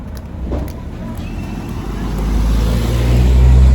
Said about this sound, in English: So I'm literally touching this car that's gonna pass.